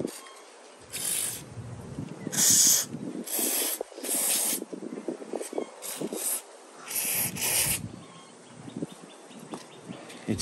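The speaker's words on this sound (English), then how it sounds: "I'm going to use some dry lube on this switch." Repeated hissing bursts of WD-40 dry lube sprayed from an aerosol can onto the switch of a vintage Milwaukee impact gun, about seven short close bursts with faint rubbing and handling noises between them.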